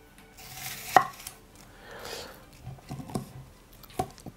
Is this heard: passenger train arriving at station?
no